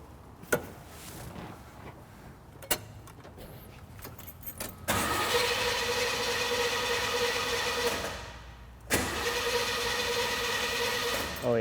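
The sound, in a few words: barn find car engine starting and running on carburetor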